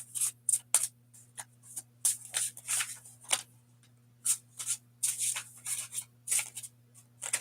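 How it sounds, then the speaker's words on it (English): A deck of cards being shuffled, heard as bursts of crisp riffling and flicking that start and stop unevenly, set over a steady low electrical hum with no talking. "I'm going to give this 2 more shuffles."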